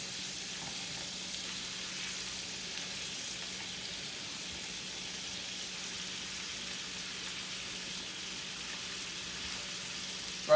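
Steak frying in a pan of melting butter gives a steady, even sizzle, a continuous crackling hiss with no break for the whole stretch, moderately close and fairly quiet, with no talk.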